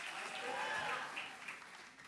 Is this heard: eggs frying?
no